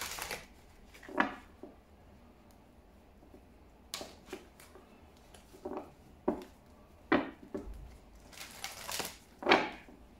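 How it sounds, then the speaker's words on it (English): Tarot cards shuffled by hand in quiet, irregular bursts of riffling and soft slaps, each flurry short and fairly close, with no voices. "Now let me see messages from the Grace cards."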